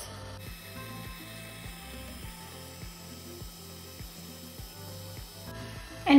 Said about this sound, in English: you'll be able to hear it